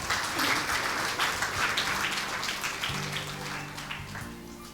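Church congregation applauding during a Hindi sermon, a dense, steady wash of clapping from many hands that carries on for several seconds, with faint sustained tones underneath toward the end.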